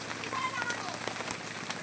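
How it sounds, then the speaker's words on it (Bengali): Heavy morning rain patters steadily and close by on surfaces in a dense, even wash, while a voice talks over it briefly. "এই যে সকাল এত বৃষ্টি পড়ছে"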